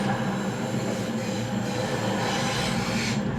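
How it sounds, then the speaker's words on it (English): A Cross Country Class 220 Voyager diesel train runs steadily on the rails, heard from the cab as a continuous loud rumble with wheel squeal and a faint clickety rhythm. "A cross-country Class 220 Voyager, en route from Manchester Piccadilly to Bristol Temple Meads."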